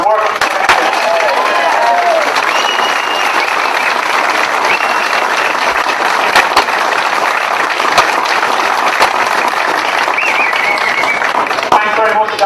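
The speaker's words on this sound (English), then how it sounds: "massive round of applause for the work he's done" A crowd at a Westmeath GAA intermediate football final gives sustained, loud applause, dense clapping that keeps going without a break.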